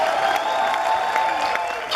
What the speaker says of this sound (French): Applaudissez pour Michel Conrou, mesdames et messieurs.